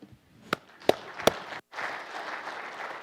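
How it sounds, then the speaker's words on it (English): A few sharp, separate claps ring out in a hall of environmental supporters and are followed by a broader wave of audience applause that rises after a short pause and continues steadily. "So I want you to give yourself a round of applause for that."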